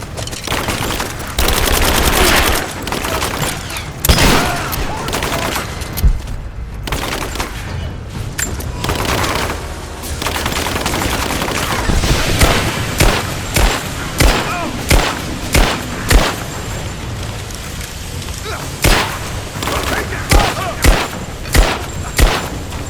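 Sustained gunfire in Rise of the Tomb Raider, with dense bursts of automatic fire and heavy blasts across the whole span, then sharper, evenly spaced single shots near the end, loud and close.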